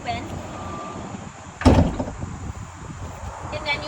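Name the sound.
Ford Transit manual door being pulled open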